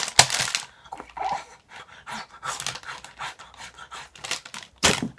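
A voice imitates someone eating noisily, making loud panting, huffing breaths and crunchy chewing noises in uneven bursts for several seconds, close to the microphone.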